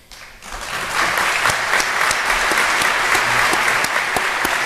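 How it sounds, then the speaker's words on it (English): A crowd at a high school graduation applauding steadily, many hands clapping in a dense, sustained roar. "let's give the graduating class of 2020 one more round of applause"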